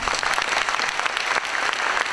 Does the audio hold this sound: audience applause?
yes